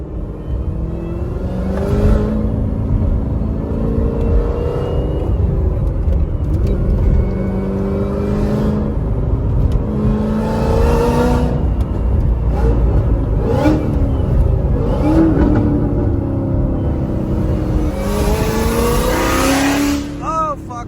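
A Chevrolet Corvette Z06 engine revs hard again and again, exhaust valves opening, each surge rising and falling with a loud, close, raspy exhaust roar.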